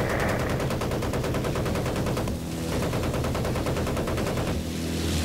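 Battlefield 1943 gunfire on the Coral Sea map: dense, continuous rapid automatic fire runs loud and close throughout, with only brief dips in the rattle.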